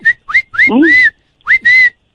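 A person whistles during a prank phone call, several short rising whistled notes then longer sustained tones, loud and close, each separated by brief silences.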